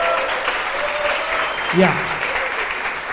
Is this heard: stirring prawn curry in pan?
no